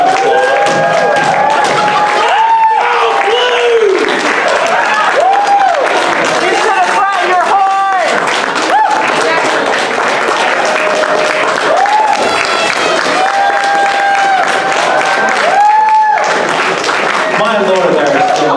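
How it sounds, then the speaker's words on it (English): A convention crowd at the TrotCon 2019 closing ceremony applauds and cheers continuously, a dense wash of clapping with whoops and voices mixed throughout. "Let's give them a big round of applause."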